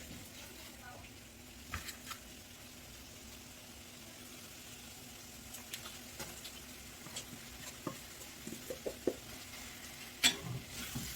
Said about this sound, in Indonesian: Kita aduk rata hingga bumbunya terserap ya.